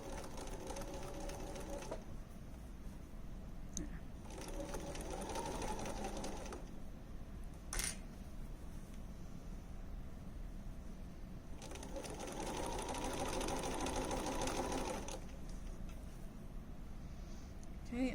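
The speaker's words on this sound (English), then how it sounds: "Now I'm going to try and stitch that seam open as well." Sewing machine stitching a seam of an infinity scarf, running in several steady mechanical bursts separated by quiet pauses, close and fairly soft.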